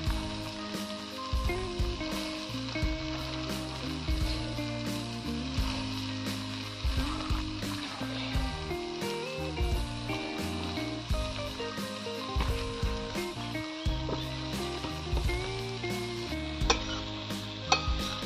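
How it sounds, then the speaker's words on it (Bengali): Cabbage frying in oil with small crabs in a pan, a loud continuous sizzle with frequent stirring scrapes and clatters throughout, and no voice heard. "তারপরে এবার আমি বাঁধাকপিটা এতে ছেড়ে দিচ্ছি।"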